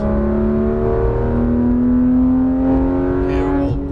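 A Porsche 991 GT3 RS engine pulls hard on a racetrack, its loud, steady rising drone building in pitch as the throttle is squeezed back on, close and continuous throughout.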